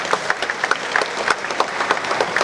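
Lively applause from a seated audience at the launch of the Jakarta Smart City app, with individual claps audible in a quick irregular patter throughout.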